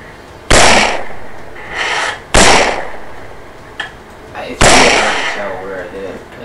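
.204 rifle shots fired at a coyote 250 yards away: three sharp, loud cracks, each trailing into a long rolling echo across open ground, plus a fainter pop in between.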